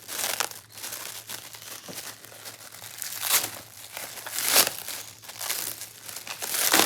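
Parcel packaging being torn and opened indoors, with repeated close crinkling and rustling bursts of plastic and paper.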